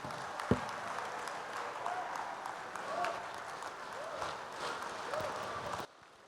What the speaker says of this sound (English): Another resounding applause for Professor Patrice Lumumba